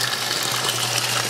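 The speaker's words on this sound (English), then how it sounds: "So we're back in sink right now and got in our rinse." Tap water runs steadily into a sink to rinse cloth diapers, a continuous close gushing flow with a low hum beneath it and no voices.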